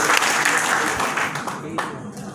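Seated audience at a business training seminar clapping on cue, a brisk burst of applause that thins out toward the end, with voices mixed in.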